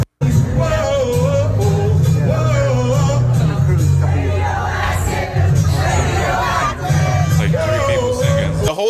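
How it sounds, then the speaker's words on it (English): A huge crowd at a concert roars and chants loudly, with a continuous wall of massed voices swelling and dipping close up. "The whole crowd going crazy"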